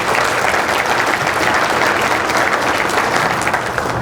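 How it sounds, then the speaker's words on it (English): Loud, sustained applause from a crowd at a county State of the County address, an even, dense roar of many hands clapping with no break. "let's give them a round of applause for that"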